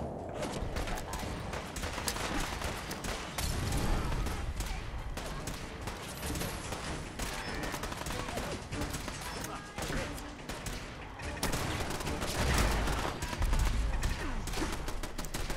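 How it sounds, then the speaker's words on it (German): Gunfire in Fallout 4, with rapid repeated shots striking a wooden structure in a dense, busy din of combat, and someone speaking German over it. "ich schieß schön gegen die Holzbahn"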